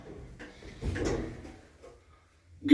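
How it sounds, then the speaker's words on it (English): Pickerings passenger lift doors at a Boots store in Exeter, a lift modernised in 2018, sliding shut in a short muffled rumble with a closer thud at the end. "Closing doors."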